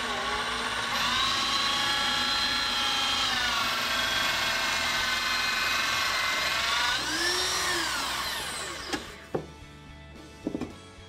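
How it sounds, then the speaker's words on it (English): A Flexco electric power belt cutter whines at high pitch as it cuts through conveyor belting, a loud sustained motor tone that shifts in pitch as the blade travels, then stops, leaving a few sharp clicks and knocks. "let me show you just how easy the electric belt cutter is to operate"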